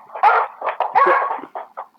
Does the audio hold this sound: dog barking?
yes